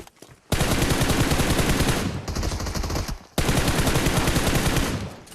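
Sustained automatic gunfire from a roleplay video game, loud, dense and continuous, with a brief lull in the middle before the rapid bursts resume at full intensity.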